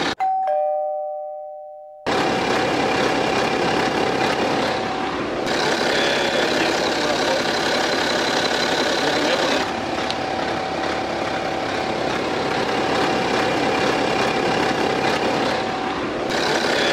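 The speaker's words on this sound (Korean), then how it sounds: "엔진의 소음은 작업 전의 소음과는 상당히 다른 형태의 소음이 나요. 지금 되게 고른 소음이 나고 있고요." A BMW X3 30d diesel engine idles smoothly after a timing chain repair, giving a steady, even drone broken by a couple of brief shifts in level. A short electronic chime sounds alone at the start.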